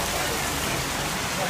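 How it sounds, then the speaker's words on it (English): Rain during the rainy season at an outdoor fruit festival in Thailand pours down as a dense, even hiss throughout a short moment, with a voice faintly underneath. "As soon as we arrived, it started raining."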